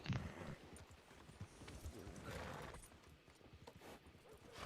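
Horse hooves clip-clop at a steady walking pace in a Western roleplay video game, a moderately close, even rhythm of soft thuds heard alone without talk.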